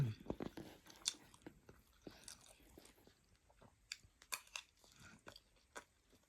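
Close, crisp crunching and biting as people eat a home-cooked Thai meal with steamed rice, in an irregular run of chewing snaps and squishes, quiet overall with no talking.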